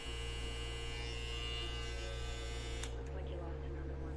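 An FXDE hair clipper runs with a steady, fairly quiet electric hum and buzz that holds without a break, its pitch dropping slightly and turning smoother near the end.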